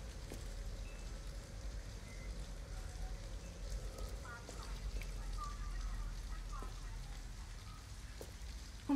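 Rain in the video game Detroit: Become Human falls as a steady, dense hiss with a low rumble throughout, while faint speech-like sounds sit far back in the mix.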